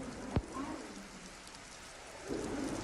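Heavy rain falls on Nalasopara near Mumbai as a faint, steady wash of hiss, with one sharp click early on and the downpour swelling slightly toward the end.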